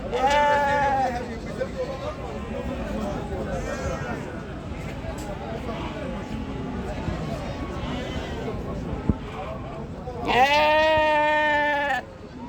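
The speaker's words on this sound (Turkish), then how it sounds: "Gəncə qoyun keçi bazarı." Sheep and goats, including milking nanny goats and young kids, bleat repeatedly at the Ganja livestock market, loud and close, with a sharp burst of bleating near the end over a steady background crowd murmur.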